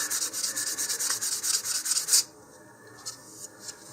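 Steady rasping strokes of sandpaper over filler putty on a model rocket nose cone, a rapid back-and-forth scrubbing for about two seconds, then a few faint scrapes, close up with no talk.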